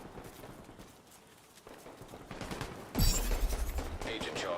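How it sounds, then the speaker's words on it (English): Enemy gunfire in a looter-shooter video game erupts loudly in the back half, dense rattling shots after a quieter stretch of game ambience, continuing steadily to the end. "Now you're firing at me."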